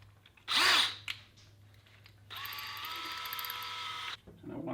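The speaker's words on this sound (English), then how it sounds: "And I'm going to use a 9/64 drill." A power drill with a 9/64 bit whines steadily for about two seconds drilling into a wall stud, near and fairly loud, after a brief sharper burst and quiet pause.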